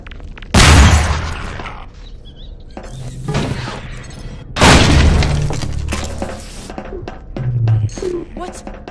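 Two loud sharp blasts with shattering debris from a grenade in Half-Life 2: Episode One, a few seconds apart, each trailing into rumble, with a voice shouting between them.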